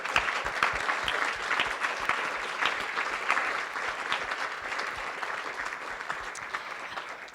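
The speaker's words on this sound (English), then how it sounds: "Let's give them a round of applause." Audience applause at a Christian youth work awards evening, a sustained dense wash of many hands clapping throughout, steady and moderately loud with no voices standing out.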